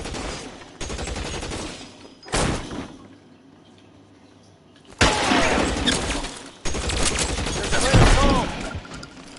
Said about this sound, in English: What's he shooting for? He shot me first.